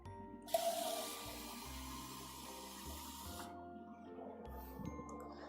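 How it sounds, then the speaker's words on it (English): Water running from a tap or pouring into a pot for making syrup, a steady broadband splash lasting about three seconds over a continuous background hum, with faint clinks at the end. "We need some water in here."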